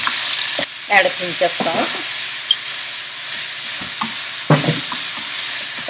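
Shredded onions fry with popped cumin seeds in a hot pan, a steady hiss broken by several stirring scrapes. A person speaks briefly over the sizzle.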